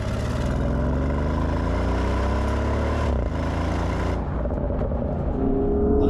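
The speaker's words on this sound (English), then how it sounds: "just a really strong, really pronounced rumble that seems to come directly from our engine bay" A 2023 Porsche Cayenne Turbo with GT Package and a V8 engine gives off a steady, deep rumble close by, rising slightly in pitch, dipping briefly near the middle and settling toward the end, with no talk over it.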